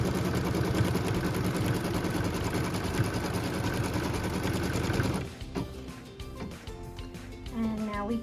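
A sewing machine stitching a quilt block runs in a steady, fast mechanical whir close by for about five seconds and then stops, after which a voice speaks briefly.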